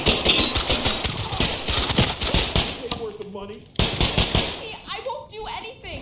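Gunfire in the tactical shooter game Ready or Not: dense, rapid automatic bursts fill the first three seconds, a second sharp burst hits near four seconds, then quieter stretches with voices talking.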